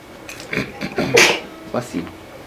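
A single sharp human sneeze, close and fairly loud, with a short intake of breath before the burst and a brief trailing throat sound afterward.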